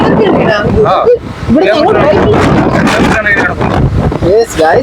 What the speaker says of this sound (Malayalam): ഭയങ്കര കാറ്റാണല്ലോ